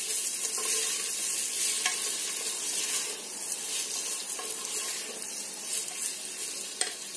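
Onions sauté in a tablespoon of oil with a soft, continuous sizzle and faint crackle at a moderate distance, steady throughout with a few small stirring clicks.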